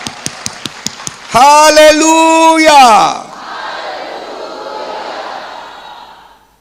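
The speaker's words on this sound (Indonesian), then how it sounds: "Tepuk tangan yang paling meriah" A church congregation bursts into applause during a worship service, a broad, sustained patter of clapping that follows a loud sung or shouted exclamation and slowly fades out over several seconds.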